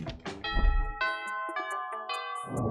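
Doorbell chime from the video game Monster Prom, a sustained ringing tone with bright overtones that lingers for a couple of seconds after a brief rumble, clear and up front.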